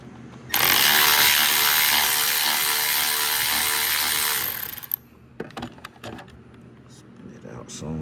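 A power tool loudly spins a 1/2 inch nut off a new 3.5 inch car exhaust for about four seconds, a dense steady whir that cuts out abruptly, followed by scattered clicks and clanks of handling nearby.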